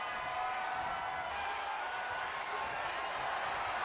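A wrestling video game crowd in WWE 2K25 chants steadily, a dense continuous arena roar at moderate level, with no break throughout.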